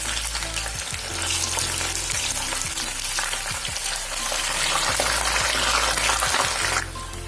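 Chicken butterfly pieces fry in hot oil, giving a loud, steady sizzle with crackling bursts throughout, briefly dropping near the end.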